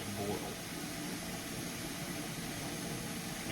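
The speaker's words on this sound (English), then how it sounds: "it sounds like a jet engine, which is why they came up with the name Jetboil." A Jetboil camping stove burner roars with a steady, broadband rushing hiss, close and constant throughout, like a tiny jet engine.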